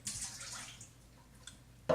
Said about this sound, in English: then you pour your water in